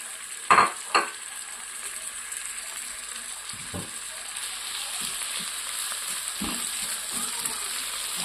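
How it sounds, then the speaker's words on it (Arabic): Steady, faint sizzle of tomatoes and other vegetables frying with garlic in a pan, with two sharp clatters near the start and a few soft utensil knocks later, no talking. "التوم معايا تمام، نبدا ننزل بقى بالطماطم وباقي الخضار"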